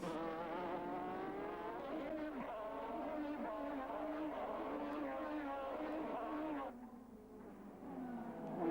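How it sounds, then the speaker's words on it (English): Formula 3000 race cars scream together through the Pau street circuit at a 1989 race restart, a dense, loud wail of engines with tires squealing and commentary running underneath. "Bernard was better on the start this time and leads it away with the two yellow EJR cars right behind him."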